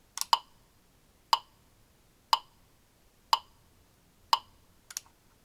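A metronome set to 60 beats per minute gives sharp isolated clicks about one second apart, five evenly spaced beats in quiet surroundings followed by a small double tick.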